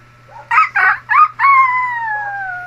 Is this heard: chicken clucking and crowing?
yes